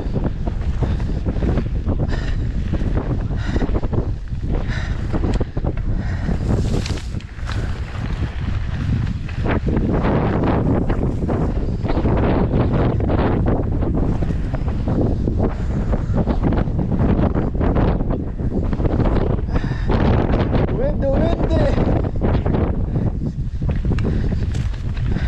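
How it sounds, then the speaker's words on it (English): Strong wind gusting outdoors near open water, a loud, continuous rumbling buffet against the microphone that surges and eases over a long stretch, with no talking. "Windy too."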